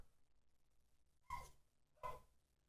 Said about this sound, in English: Can you guys hear Stitch barking?